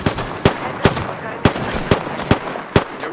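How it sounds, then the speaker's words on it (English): Airstrike explosions in a video game: about seven sharp, loud broadband blasts hit at irregular intervals roughly every half second over a continuous rumbling, crackling bed of noise, with no talking. "Airstrike."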